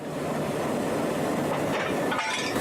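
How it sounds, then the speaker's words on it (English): Train pulled by a diesel locomotive, heard from aboard as a steady loud rumble with rail clatter, continuous and close, with no talking. "we've now got a diesel locomotive in front of our train"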